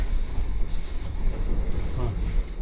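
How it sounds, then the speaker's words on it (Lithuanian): Strong wind buffets the microphone on Hiiumaa island in Estonia, a steady broadband roar with gusty swells throughout, close and fairly loud, with no clear voice over it. "Vėjas taip baladoja, draskos"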